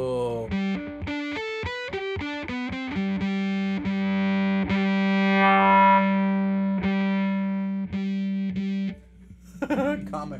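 Violin played through a Bunnel Heavy Metal distortion pedal with the tone set darker, producing gritty, buzzing sustained notes and short choppy phrases, close and fairly loud, ending with a brief pause and a few rough scrapes.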